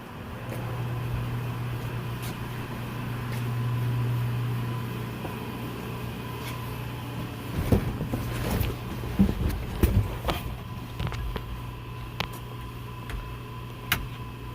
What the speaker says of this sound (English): Ignition, fans kicking on, neutral.